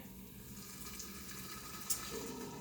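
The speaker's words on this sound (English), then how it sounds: "then you just want to fill it with boiling water" Boiling water poured from a kettle over tea bags in a jar while brewing tea for kombucha gives a steady, even rush of running liquid, moderately loud and unbroken, with no talking.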